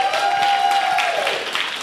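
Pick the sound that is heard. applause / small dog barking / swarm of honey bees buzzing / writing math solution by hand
applause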